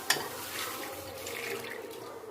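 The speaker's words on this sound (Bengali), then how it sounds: "ডালটা ধুয়ে নিয়েছি এবার বসিয়ে নেব জল দিয়ে দিচ্ছি" Water pouring into a pot of washed lentils, a steady close splashing stream with a small clink at the start.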